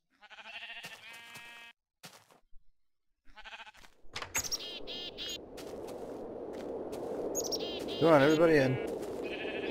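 Sheep in Minecraft with the Tekkit mod bleat several times, clear and close, while someone speaks over them and game noise rises behind.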